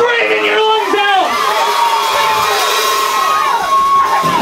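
A live concert crowd at the Rat's Den cheers, whoops and screams together before a set, a loud, dense wall of shouting voices close up and sustained throughout.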